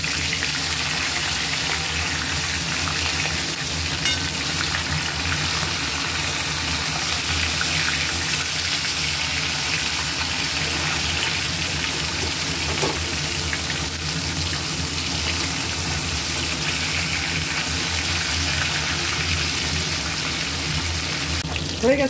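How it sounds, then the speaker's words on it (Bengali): Rohu fish fries in mustard oil in a wok, a continuous even sizzling hiss that holds steady for the whole stretch, with a small clatter near the end. "এক সাইডটা ভাজা, এবার উল্টে দেবো।"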